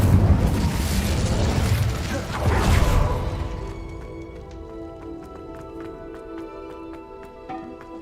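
A fiery Incendio spell in Hogwarts Legacy bursts with a loud roaring whoosh that swells and then fades, leaving a trail of small chiming and clicking game effects.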